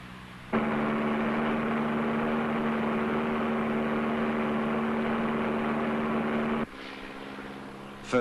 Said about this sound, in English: then showed me how the Tiger Moth could be made to move in the sky